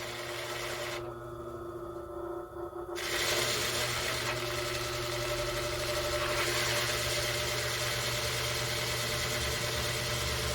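A diamond flat lap converted into a carpet wheel runs with a steady motor hum and whir, close and continuous, becoming a bit louder after a short dip near the start.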